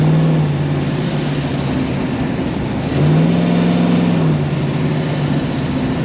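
A 1969 Dodge Charger 440 R/T restomod's V8 engine accelerating while driving, a steady loud low drone heard from inside the car that rises in pitch twice as it revs.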